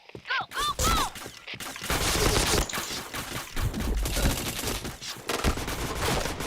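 Rapid gunfire rattles in the shooter game Point Blank, dense bursts of shots and automatic fire filling most of the clip, loud and close, with a voice briefly heard near the start.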